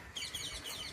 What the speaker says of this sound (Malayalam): തത്തകൾ ഒന്നിച്ച് പോണുണ്ട് തത്തകൾ